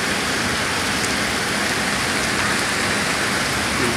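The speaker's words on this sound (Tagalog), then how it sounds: "Lakas ng ulan guys, napakalakas." A hard downpour hisses and patters continuously, a thick, even wash of raindrops striking surfaces nearby, loud throughout with no voices.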